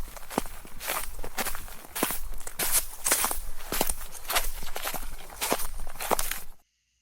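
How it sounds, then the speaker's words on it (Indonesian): Slow footsteps circle outside a tent on a foggy night camping trip on Mount Lawu, each step a crisp crunch on the ground, steady and fairly close, walking continuously before stopping abruptly into silence. "tiba-tiba di luar tenda ada suara langkah kaki"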